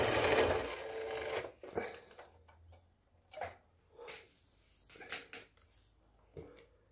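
A sewing machine runs through a 40-inch quilt block seam, starting with a sustained loud whir, then carrying on as a few shorter bursts of stitching separated by pauses.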